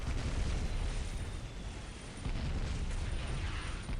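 Explosions from a gun wagon in the strategy game Dawn of War Ultimate Apocalypse, a dense rumbling barrage of booms and bursts rolling continuously with a brief dip midway before swelling again.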